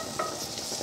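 Bacon fries in a pan as it is stirred, the first step of a chili con carne. A soft, steady sizzle runs throughout, with a brief scrape of the stirring near the start.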